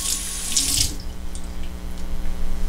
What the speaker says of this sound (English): I will just take a little bit of water and put it across the top of here.